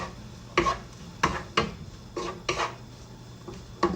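Metal utensil scraping and knocking against a pan while bechamel macaroni with Arab spices and black pepper is stirred, a series of about eight sharp clinks and scrapes at an irregular rhythm, close and clear with no talking.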